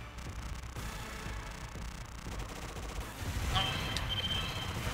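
Rapid streams of bullet fire rattle on in the shoot 'em up Progear no Arashi, dense repeated shot bursts under music, swelling louder toward the end.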